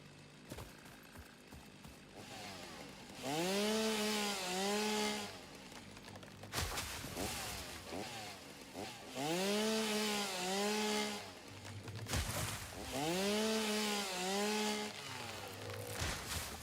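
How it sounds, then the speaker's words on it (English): A chainsaw in the game Satisfactory revs loudly in three long bursts, each rising to a strong buzzing whine while cutting wood, separated by lower idle rumbling; no one talks. "Chainsaw! Chainsaw!"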